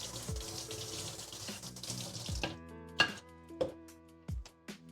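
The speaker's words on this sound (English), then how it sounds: "Some whetstones you have to soak in water beforehand, but these ones are just splash only, so just get some water on them." Water running and splashing onto splash-type whetstones before knife sharpening, a steady faucet-like stream that stops, followed by a few sharp knocks and taps of stone and blade.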